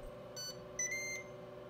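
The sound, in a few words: Ninja Foodi XL Pro Air Oven preheat notification beep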